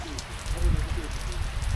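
Steady rain falls outdoors at a shooting range, a dense broadband patter hissing continuously with people talking over it.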